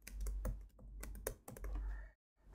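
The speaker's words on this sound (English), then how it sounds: "now I'm going to type what I want to use for this trace." Typing on a computer keyboard while entering text in Microsoft Word, a quick run of soft close key clicks over low hum that stops briefly near the end, then resumes.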